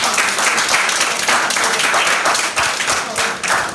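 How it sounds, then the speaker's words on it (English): Audience applause for high school debaters at a law week debating competition, loud and steady dense clapping lasting throughout without any voices. "Please give them a round of applause."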